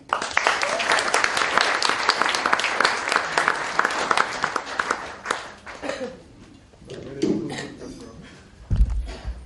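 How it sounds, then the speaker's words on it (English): Evening gathering audience giving a big round of applause, loud dense clapping that tapers off after about six seconds into scattered claps and a voice. "Please give a big round of applause for Mr. Manu Jagmohan Singh"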